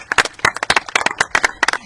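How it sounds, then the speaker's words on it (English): A small audience claps by hand at the opening of an education garden at a farm and environmental center, giving a brief, sparse round of distinct, close claps with a few overlapping hands. "we can give him a hand clap for that"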